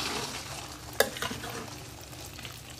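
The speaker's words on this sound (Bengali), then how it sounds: "মোগলাইটাকে লো হিটেই ভাজতে হবে" A Mughlai paratha fries on low heat in about half a litre of oil in a wok, giving a soft, continuous close sizzle with a single sharp clink near the start.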